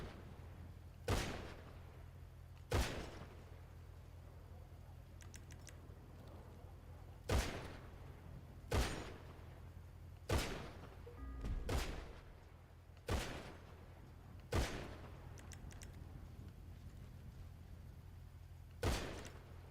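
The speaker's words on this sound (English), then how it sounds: "Yeah, I think I'm hearing people setting off fireworks now." Fireworks set off somewhere in the distance during a racing game session, a series of about nine sharp, separate bangs spaced a second or two apart over a steady low background hum.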